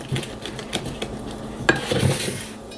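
A teaspoon stirring dry baking ingredients for grain-free apple muffins in a bowl, giving soft scraping swishes with a few light clinks against the side, close and fairly quiet.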